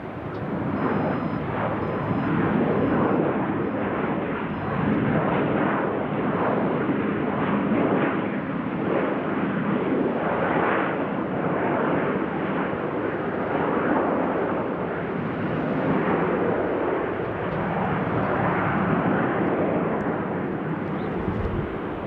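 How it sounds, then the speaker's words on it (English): A fixed-wing airliner applies reverse thrust on landing at Salt Lake City Airport, giving a loud, continuous, broadband roar that holds steady throughout, heard from outside at moderate distance with no voices. "reverse thrust."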